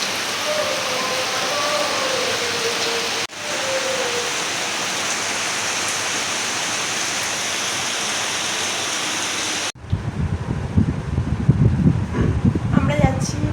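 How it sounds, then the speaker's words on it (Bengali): Heavy rain pours down in a steady, dense hiss for about ten seconds, then shifts to a closer, rougher drumming and patter. "করে বৃষ্টি পড়ছে"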